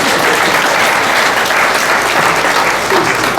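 Loud, dense applause from an audience at an awards ceremony in Kenya, sustained and steady throughout with no pauses.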